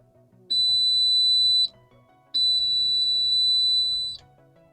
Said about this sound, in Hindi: जब भी मैं इसे प्रेस कर रहा हूँ तो ये हमारा बजर बीप